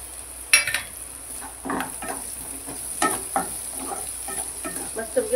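Onion frying in a pan with garlic for methi bhaji, a steady crackling sizzle broken by a few sharp clinks and scrapes of stirring.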